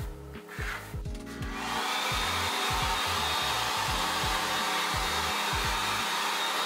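A hair dryer blowing while drying hair in a hotel room, a loud, steady whooshing hum that starts after a brief lower rumble and runs on continuously with rhythmic rubbing and handling sounds beneath it.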